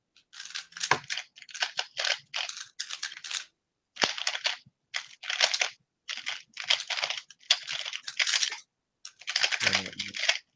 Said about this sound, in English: I keep pressing spacebar